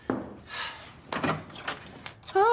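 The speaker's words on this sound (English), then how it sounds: "Oh, door." A door opens and closes indoors with several knocks, clunks and a latch rattle, ending on a short tonal squeak.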